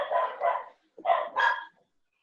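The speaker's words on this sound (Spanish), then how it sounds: "Qué bueno que el perro me responda." A dog barking four times in two quick pairs, sharp and fairly close, with a short pause between the pairs and quiet otherwise.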